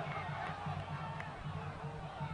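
Football stadium crowd at an Operário versus Aquidauanense match roaring in protest over a foul, a continuous distant mass of voices heard under broadcast commentary.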